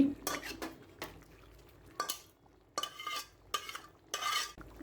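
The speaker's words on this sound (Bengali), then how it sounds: "সব মাংসগুলো দিয়ে দিচ্ছি" Mutton pieces are added to a pot of khichuri rice and stirred in, heard as intermittent scraping clanks of a utensil against the pot in short bursts separated by quiet gaps.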